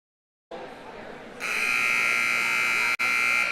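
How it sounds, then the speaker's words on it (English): A long, loud electronic buzzer sounds in a high school volleyball gym, starting over crowd murmur and holding steady for about two seconds with one brief cut before continuing. "Buzzer sound, set number 2."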